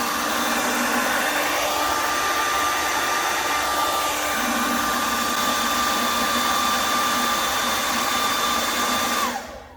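A hair dryer blows a steady, loud, close whoosh of air over a drying clay bottle, running unbroken for nearly ten seconds before cutting off abruptly at the end.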